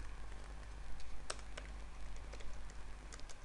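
Typing on a computer keyboard, a quick run of soft key clicks with a few sharper taps, close and faint over a low steady hum, with no voice.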